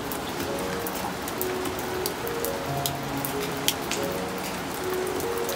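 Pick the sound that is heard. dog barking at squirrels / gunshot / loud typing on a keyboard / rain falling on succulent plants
rain falling on succulent plants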